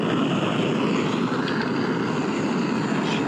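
A tiny gas camping stove burner turned up higher under a pan of scrambled eggs gives a steady, close, broadband roaring hiss that holds level throughout with no talk.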